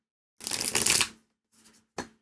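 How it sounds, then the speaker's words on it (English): Laminated Labyrinth tarot cards are shuffled close up, first in a loud crisp riffling burst, then a faint brief shuffle and a final sharp snap as the deck comes together. "I think these were meant to be riffle shuffled."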